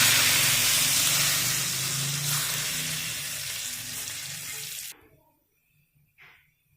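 A hot tadka of red chilies and white cumin hits chicken daal with a loud, sustained hissing sizzle that slowly fades, then cuts off abruptly into near silence.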